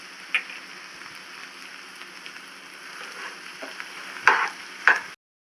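Puran filling of jaggery mixed with cardamom, dry ginger and fennel powders and a pinch of salt is stirred in a pan, giving a faint steady sizzle with a few sharper scrapes near the end.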